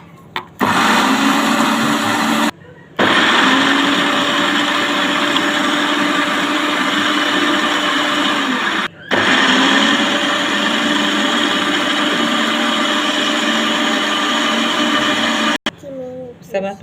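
An electric hand mixer whirs steadily as it beats eggs into cake batter, a loud continuous drone that cuts out briefly a couple of times before starting again.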